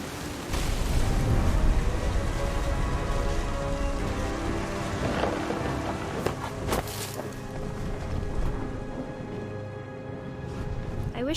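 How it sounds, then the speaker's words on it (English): Heavy rain pours steadily during a thunderstorm in the video game What Remains of Edith Finch, with close, loud thunder rumbling and cracking throughout. "The thunder sounded much too close and full of angry power."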